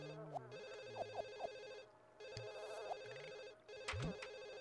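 An in-game telephone in The Sims for PS2 rings in repeated electronic bursts with short gaps, loud and close over light background music.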